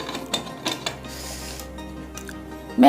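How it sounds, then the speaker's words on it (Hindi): Metal clinks and knocks as a pressure cooker lid is handled and set in place, ending with a louder clunk. "अब कुकर का ढक्कन लगा देंगे।"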